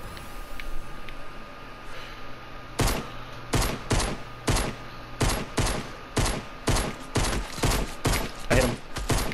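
Pistol gunshots in the video game Fortnite: about a dozen sharp, loud shots ring out at an uneven but rapid pace over steady game ambience, following a quieter stretch at the start.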